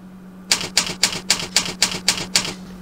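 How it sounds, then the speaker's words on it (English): Typewriter typing sound effect in a PowerPoint text animation: eight crisp, evenly spaced key strikes in quick succession over a faint hum, loud and alone. "This is the way actual typewriting effect should look."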